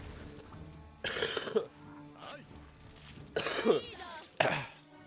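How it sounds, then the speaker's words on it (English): Several harsh coughs from one person with a lingering week-long cough, in bursts of two or three spread through the stretch, close to the microphone and loud against quiet background noise. "I've been coughing like that for a week now"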